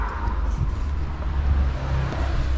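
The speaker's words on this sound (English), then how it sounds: "Exhaust wise, it's just a Roush X pipe, and my gosh, this car sounds nuts" A 2019 Ford Mustang GT V8 with a Roush X-pipe exhaust gives a deep, throaty rumble steadily throughout, loud and close, with no talking over it.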